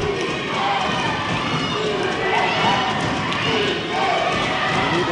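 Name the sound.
crowd yelling at a basketball game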